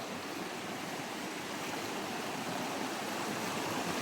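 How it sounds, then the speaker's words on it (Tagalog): A flowing stream of brackish, slightly salty water near the sea rushes steadily and evenly, a close, continuous broadband wash with no voices. "So ito yung sapa guys. Sapa po ito"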